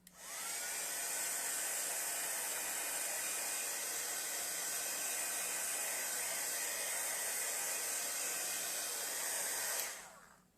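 A hair dryer blows over acrylic paint on an art piece, a steady broad airy roar that runs close and unbroken for about ten seconds before switching off, with no talking.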